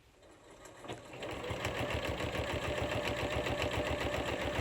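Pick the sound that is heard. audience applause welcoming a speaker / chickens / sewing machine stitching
sewing machine stitching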